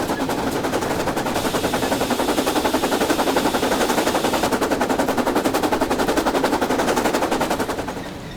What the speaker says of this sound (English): It has a really good chuff rate.